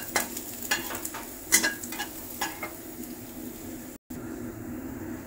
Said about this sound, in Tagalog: Haluin lang natin hanggang konting mag-brown.